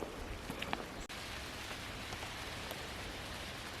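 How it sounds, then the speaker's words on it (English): Steady rain patters on the tree canopy of a Maui forest, an even, dense hiss of drops with a few sharper close ticks, continuous and moderately near with no talking. "It started to rain."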